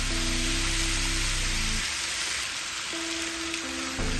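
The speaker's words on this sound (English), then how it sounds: "Put this bacon and sausage on." Bacon and sausage sizzle on a Blackstone griddle in a steady, close, bright hiss that carries on alone without talk.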